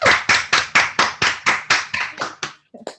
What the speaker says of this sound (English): So kind of give them a round of applause.